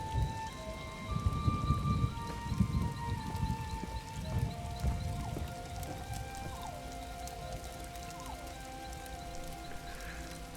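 Steady rain falls outside in Elder Scrolls Online, a dense continuous patter with soft low rumbling beneath and thin tonal game ambience layered over it, no voices.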